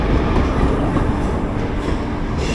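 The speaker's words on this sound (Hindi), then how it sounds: "कोई एक WAP4 का लोकोमोटिव के साथ कोई तो लोकल ट्रेन है जो आ रही है अभी।" Local train hauled by a WAP4 electric locomotive arriving at the Anand Vihar platform, a steady loud rumble of rolling wagons with faint rhythmic wheel clatter throughout, no voices.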